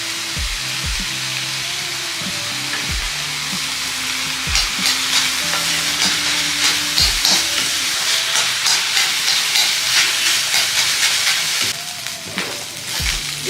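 Chicken podimas fries in hot oil while being stirred, a steady sizzle under repeated scraping strokes of a spoon in the pan, close and continuous without talk.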